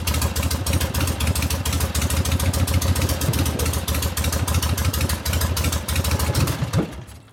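A 1970 Harley-Davidson XLCH Ironhead Sportster, built as a rigid bobber, runs close by with a loud, steady, clattering engine rumble and rapid throttle pulses for about seven seconds before cutting off abruptly.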